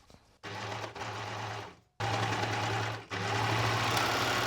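Sewing machine stitching linen for a summer dress, running in steady mechanical bursts with brief pauses between seams, loud and close with no talking.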